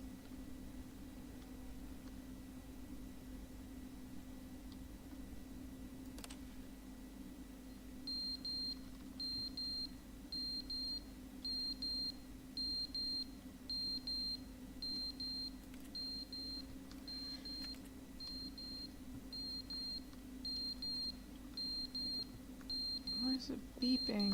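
A broken clock in The Stanley Parable Ultra Deluxe emits a regular series of high, thin electronic beeps, quiet against a steady low fan-like hum, repeating evenly for the latter two thirds.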